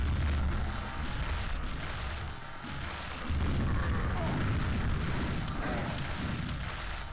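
Rocket launcher blasts and explosions rumble through a sci-fi video game, a dense, loud roar of fire and booms that barely lets up across the whole stretch.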